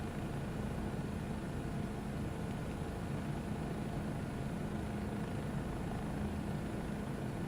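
Constant loud broadband rotor and engine roar from a helicopter in Microsoft Flight Simulator 2024, mixed with another sound, steady throughout with no pauses or voices.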